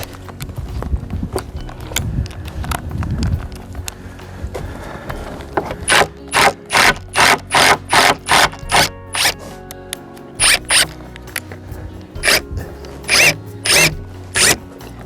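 A screwdriver backs Phillips screws out of a high tunnel frame during a rebuild, first with scattered clicks and rustling, then a run of sharp, evenly spaced ratcheting squeaks in short bursts, close and loud.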